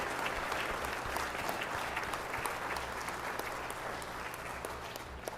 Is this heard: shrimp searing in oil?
no